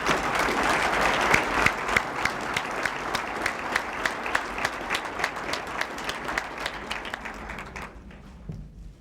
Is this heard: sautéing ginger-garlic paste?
no